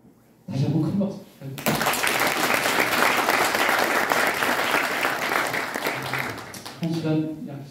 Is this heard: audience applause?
yes